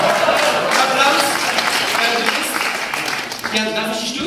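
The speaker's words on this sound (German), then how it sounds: "Applaus." An audience at a magic show in Würzburg breaks into loud, continuous applause that eases slightly toward the end, with a voice speaking over it.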